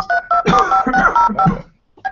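Telephone DTMF dialing tones, loud and close, play as a quick run of keypad beeps in uneven bursts, then stop briefly before one more short tone starts.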